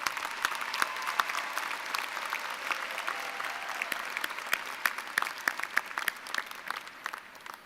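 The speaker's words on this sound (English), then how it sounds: "Please extend a round of applause to these dedicated and accomplished faculty." Audience applause fills a 2012 William Paterson University commencement ceremony, a steady, sustained wash of many hands clapping from start to finish, with individual claps popping out of the dense crowd sound.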